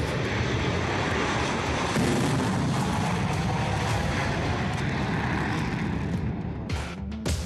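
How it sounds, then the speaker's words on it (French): Fighter jets take off at dawn near Tel Aviv, a loud sustained roar of engine noise filling the air and fading out at the end. "Les avions de chasse décollent"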